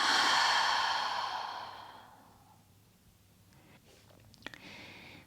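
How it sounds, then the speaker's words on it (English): A long, soft exhale through the nose during a yoga breathing round, close and breathy at first and fading to near silence, followed by faint rustling. "exhaling it out."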